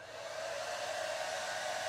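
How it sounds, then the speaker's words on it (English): A blow dryer whirs steadily with a constant high-pitched hum and airy rush, then cuts off abruptly at the very end. "now I'm just gonna use my blow dryer for a little bit longer"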